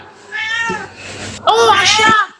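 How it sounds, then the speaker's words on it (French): A cat gives two close, loud meows, the second one longer and rising, with a short pause between them. "Oh, un chat. Un chat."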